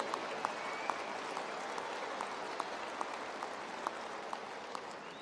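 Sustained clapping from a veterinary medicine commencement audience at Colorado State University, a dense, even wash of many hands with a few sharper claps standing out, steady throughout with no talk.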